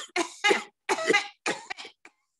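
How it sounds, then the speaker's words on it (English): A person coughs several times in short bursts during a yoga breathing exercise, close up, with brief pauses between coughs. "Take a deep breath and do the coughing again."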